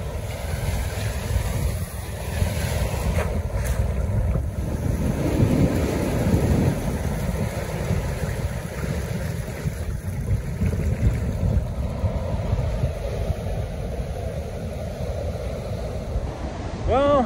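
Ocean waves wash onto a beach on a morning walk, a steady broad rush with gusty wind buffeting the microphone throughout, continuous and fairly loud with no speech.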